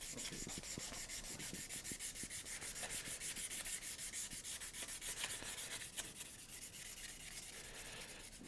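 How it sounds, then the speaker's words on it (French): Guitar wood is wet-sanded by hand in steady back-and-forth rubbing strokes, a close, continuous hiss-like rasp with an even rhythm and no talking. "pour les moments où je ponce à l'eau"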